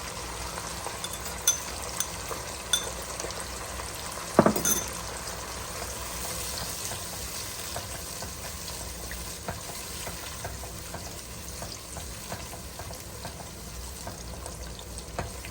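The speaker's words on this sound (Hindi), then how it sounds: "इसको अदरक लहसुन को मैंने थोड़ा सा भून लिया है" Ginger garlic paste frying in a pot, a steady soft sizzle throughout with a brief clatter early on, no talking.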